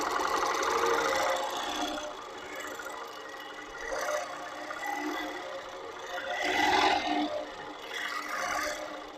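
A Moxie longarm quilting machine stitching along a Loft quilting frame, a continuous close whirring motor hum with a rapid needle rhythm that swells and eases as it runs.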